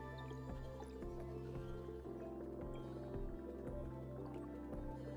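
A water extractor runs in the Mars colony game Per Aspera, a mechanical loop of regular thumps and wet, dripping squishes over a steady hum.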